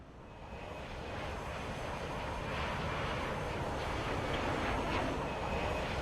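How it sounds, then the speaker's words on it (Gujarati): Airplane engine drone in the Free Fire game, a steady broad roar that swells slightly and holds at a constant level throughout, with no talking. "આમ અવાજ આવે છે ખૂ ખૂ ખૂ એવો કાંઈ વિમાનનો."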